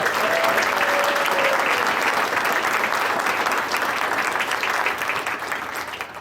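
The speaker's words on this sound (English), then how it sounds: "Let's give a huge round of applause to all of our fantastic actors." An audience applauds the actors after a courtroom case reenactment, a full, sustained wash of clapping that tapers slightly toward the end.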